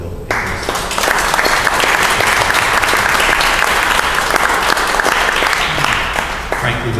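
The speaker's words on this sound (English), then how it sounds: "I would like to ask you to have a round of applause for Bill." Sustained, loud audience applause at a casual talk in a pub, a dense continuous roar of clapping from a packed room lasting the whole stretch.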